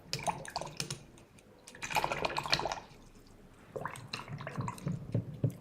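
A paintbrush swished and dabbed in bowls of water, giving light drips and splashy sloshes in uneven bursts, close and fairly quiet, with brief pauses between rinses and no talking.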